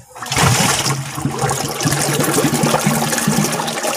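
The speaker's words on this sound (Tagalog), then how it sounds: "para makuha yung dumi dun sa pipe na nasa bottom drain, kailangan natin tagalan ng tubig" Water gushes and splashes steadily as it drains from a koi pond filter's bottom-drain pipe, a continuous draining rush with gurgling low tones, close and fairly loud, no voices.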